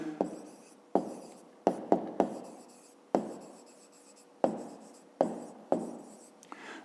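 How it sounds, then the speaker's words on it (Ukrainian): A hand writes an answer to a 5th-grade math exercise on paper, a string of short scratchy pen strokes with brief pauses between them, close and soft, with no talking. "Пишемо тоді відповідь"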